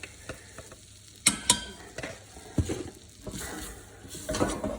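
Butter and flour cook together in a pan as a roux for a white Mornay sauce, giving a soft sizzle with scattered spoon scrapes and clinks against the pan, close and fairly quiet.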